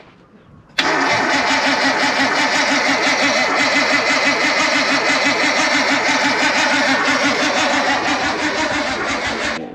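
Nissan R32 Skyline engine cranking with the crank angle sensor unplugged, so it spins without firing: a sudden loud start after a quiet moment, then a steady, rapid rhythmic churn held close for about nine seconds with no talk.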